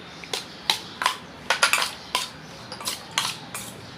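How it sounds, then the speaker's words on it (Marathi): A spoon mixes prawns with lemon juice and red chilli powder in a bowl, giving about a dozen sharp, close metallic clinks in an uneven rhythm over a quiet background, with no speech. "तर आपण त्याला मिक्स करून घेऊया"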